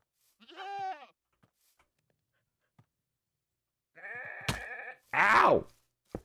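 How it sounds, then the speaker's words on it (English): Goat bleats from the Minecraft video game, a short wavering cry followed by two more bleats a few seconds later, the last one harsher and noisier, separated by near silence and faint clicks. "Make the goat charge into solid object."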